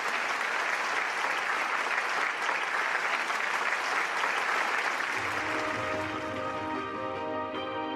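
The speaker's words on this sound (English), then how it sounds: "round of applause" Sustained audience applause fills a large rally hall in Korea, dense and steady, then thins toward the end as music begins to sound underneath.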